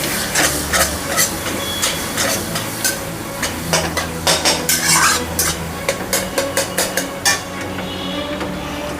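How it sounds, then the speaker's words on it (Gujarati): Grated bottle gourd sautéed in ghee over medium heat gives a loud, close sizzle with rapid, rhythmic scraping and clattering of a spoon stirring against the pan. "ઘીમાં આપણે થોડી 1 સેકન્ડ જેટલી દૂધી સેતરવાની છે."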